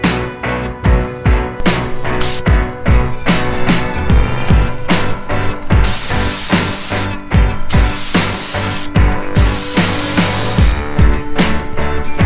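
A spray gun applying Shopline clear coat to Evo 9 headlights and an air duct, close bursts of hissing spray in rapid on-off pulses with brief gaps between passes, no talking.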